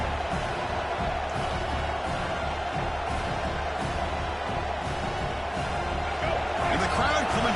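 Football video game stadium crowd coming to life during a red-zone defensive stand, a loud continuous roar of many voices that swells slightly toward the end, with a commentator-like voice mixed in.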